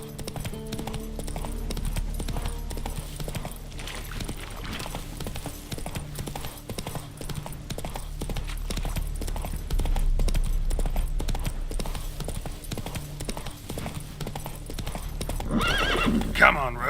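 Roach, a horse in The Witcher 3, clip-clops along in a steady rhythmic trot with a close neigh near the end, a voice urging the horse on over the hoofbeats.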